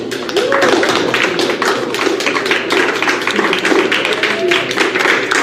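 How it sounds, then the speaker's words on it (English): A roomful of people clapping at a band banquet, a dense, loud and sustained round of hand claps close by with no talking over it. "Congratulations, everyone. Let's give a round of applause."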